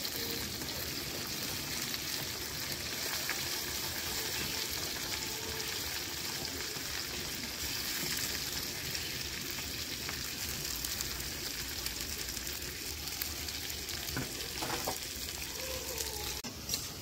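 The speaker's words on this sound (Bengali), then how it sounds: "পেঁয়াজ আর টমেটোটা একসঙ্গে দিয়ে দিলাম।" Onion and tomato fry together in a pan in a home kitchen, giving a steady, fairly quiet sizzle that runs on without a break and with no talk.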